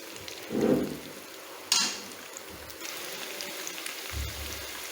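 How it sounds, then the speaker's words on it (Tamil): Cauliflower and potato pieces shallow frying in oil in a pan, giving a soft, steady crackling sizzle with a few louder pops and clinks. "காலிஃப்ளவர் தனியாகவும் உருளைக்கிழங்கு தனியாக ஃப்ரை பண்ணிக்கோங்க"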